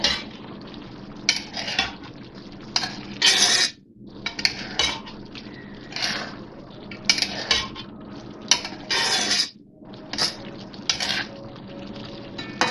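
A spoon stirs through a pan of chopped bottle gourd with onions, green chillies and squeezed lemon. It gives repeated bursts of scraping and clinking against the metal, with short pauses between strokes, close and fairly loud over a low kitchen hum.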